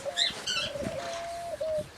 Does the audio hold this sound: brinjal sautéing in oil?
no